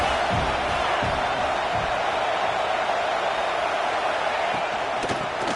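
A football stadium crowd roars in a steady, dense wash of noise during a Seattle versus Nebraska game, supporting the defense before a third-and-short play, with faint shouts and whoops rising from the mass.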